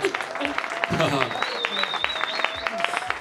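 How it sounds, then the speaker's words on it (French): Scattered audience clapping, individual hand claps audible as a loose uneven patter, under a speaker's voice addressing the crowd. "Applaudissez pour vous-même. Applaudissez très fort."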